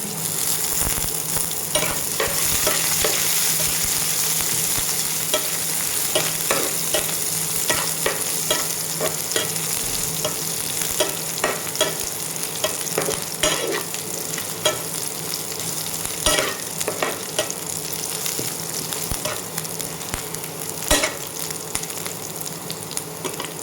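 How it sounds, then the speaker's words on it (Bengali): Chopped garlic, with a little extra chilli, fries in spattering oil in a pan for lentils with jute leaves, a loud, close, continuous sizzle broken by sharp pops and stirring scrapes. "তেলগুলো একদম ছিটে আসছে"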